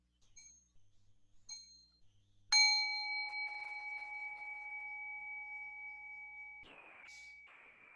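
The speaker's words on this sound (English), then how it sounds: "I'm going to invite the bell" A meditation bell is struck once and rings out clear and sustained, its bright tone slowly fading over several seconds, with a few faint small taps before it and a light knock near the end.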